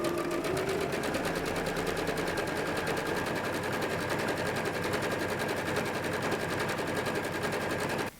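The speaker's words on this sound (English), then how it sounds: "So I'm gonna hold that down while I sew a couple inches back." A sewing machine stitches a fabric scrunchie in one steady, rapid mechanical chatter that runs close and loud for several seconds before stopping abruptly.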